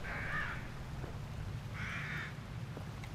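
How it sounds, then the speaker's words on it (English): Crows caw in The Evil Within video game, two separate harsh calls about a second and a half apart, over a steady low ambient rumble. "Another bird. Birds."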